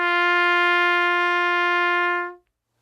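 A trumpet sustains a single open G for over two seconds, loud, bright and steady, before stopping cleanly into silence.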